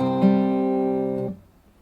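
Acoustic guitar from a piece, a sustained chord figure from bar 14 ringing with rich harmonics, then cut off short and damped near the end.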